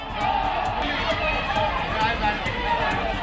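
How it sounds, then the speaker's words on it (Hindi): Hundreds of people massing in a tense street gathering and chanting slogans produce a dense, continuous roar of voices, steady and fairly loud throughout, with no single words standing out. "भीड़ में इकट्ठा लोग नारेबाजी करने लगे"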